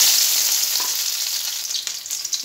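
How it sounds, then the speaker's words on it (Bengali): Chopped onion dropped into a hot pan sets off a loud, dense sizzle that fades slightly as it settles, with light stirring scrapes toward the end. "দিয়ে দেবো পেঁয়াজ কুচি।"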